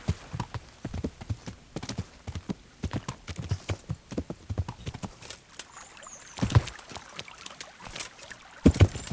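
In Kingdom Come: Deliverance, a horse's hooves clop and splash through a stream in an uneven walking rhythm, close and fairly loud, with wet sloshes and a couple of heavier splashes toward the end.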